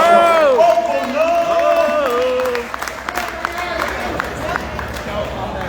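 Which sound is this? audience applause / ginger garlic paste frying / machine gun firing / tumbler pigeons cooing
audience applause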